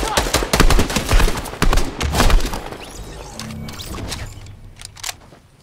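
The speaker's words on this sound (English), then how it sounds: "Oh, I'm getting shot!" Gunfire in the Fortnite video game, a loud close burst of rapid shots and heavy impacts for about three seconds, then quieter scattered shots and clicks trailing off.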